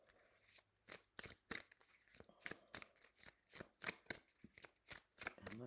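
An African Goddess Rising oracle card deck is shuffled by hand, producing a quick, repeated riffle of crisp card flutters and slaps, close up and rhythmic with no talking.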